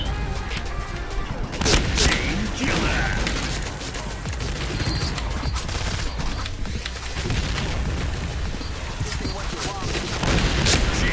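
Gunfire and explosions in the online shooter Point Blank, dense bursts of shots and booming blasts packed together loudly for the whole stretch, with a voice talking underneath.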